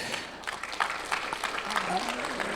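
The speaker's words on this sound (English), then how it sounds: "Give him another round of applause." An audience at a networking event at the Westin Bayshore claps steadily for a couple of seconds, a warm continuous patter of applause with a voice faintly audible underneath.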